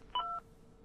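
Quick run of touch-tone phone dialing beeps from the video game Whack Your Computer, a few short bright tones in a brief burst, then quiet.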